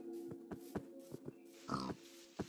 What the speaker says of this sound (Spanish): Qué rápido conseguí cerdos.